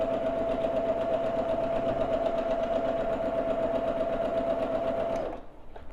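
A sewing machine stitches a quilt top, running at a steady, loud, continuous hum for about five seconds before stopping abruptly near the end.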